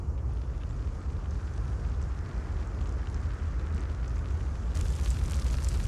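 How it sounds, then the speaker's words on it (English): Fire burning in the Tales of Arise video game, a steady low roaring rumble of flames that holds at moderate level throughout, with a brighter hiss joining near the end. "Wow, everything is on fire."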